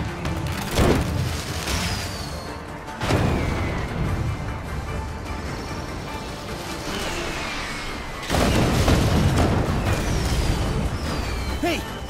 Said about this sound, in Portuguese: De uns fogos de artifício.